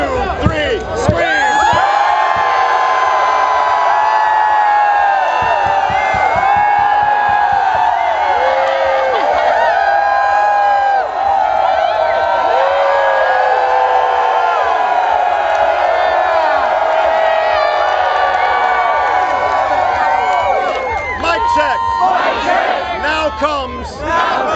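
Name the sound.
crowd screaming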